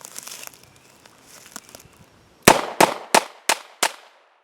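Five rapid shots from a Smith & Wesson 642 revolver, sharp loud cracks fired at an even quick pace with ringing decay between them, preceded by quieter handling rustles and clicks.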